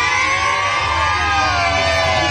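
A group of children at a gathering in Los Naranjos demanding a bridge shout together on cue, a loud, continuous mass of young voices filling the whole moment without a break.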